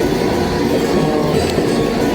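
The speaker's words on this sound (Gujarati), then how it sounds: "હવે ટ્રેન આવશે તો આપણે ટ્રેનમાં બેસી જશું" A train rumbles at a railway station in Surat, India, with a continuous, fairly loud rolling roar of wheels on track and no voices.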